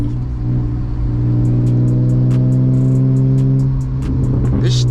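A manual BMW E36 engine hums steadily and then climbs in a loud, close rev after a downshift, with a strong low drone and rising harmonics, heard alone.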